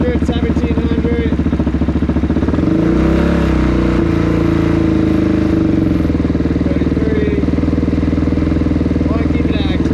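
A Suzuki DR-Z motorcycle engine idling around 1700–1800 RPM, a loud close steady thumping throb that swells briefly in the middle, with a voice speaking over it.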